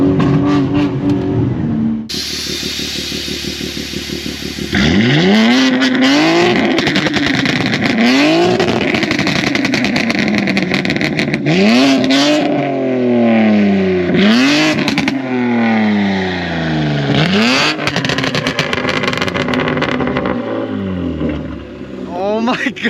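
An 800 HP 2021 BMW G82 M4 Competition engine revs hard over and over, each sharp rising roar falling back between blips, loud and close, with voices in between.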